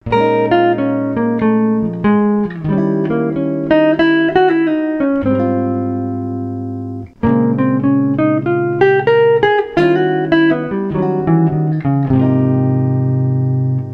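An instrument with a distorted, buzzy tone runs bebop-style melodic lines over a 2-5-1 chord progression, in fast, busy note runs in two phrases split by a brief pause, close and loud with no talking.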